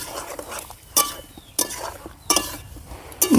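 Spices being stirred with salt and turmeric in a metal pan, a spoon knocking and scraping against the pan in four sharp clinks spread over a few seconds, close and clear without talk.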